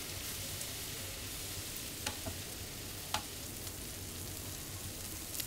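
Goat liver (kaleji) frying on a tawa over a medium flame gives a steady, continuous sizzle, with a few faint clicks and light scrapes on top and no voices.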